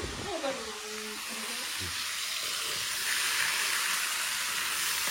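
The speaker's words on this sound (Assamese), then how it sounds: "পুৰা একদম পুৰি ভাজি আছে" A constant hiss of food frying in hot oil, growing louder partway through, with a brief murmur of a voice near the start.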